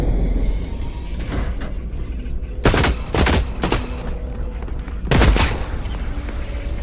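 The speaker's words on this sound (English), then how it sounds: "Damn, he got a shot off." Gunfire in the video game The Cycle Frontier: several loud, sharp bursts of shots, with one cluster near the middle and another toward the end, over a steady game background and no talk.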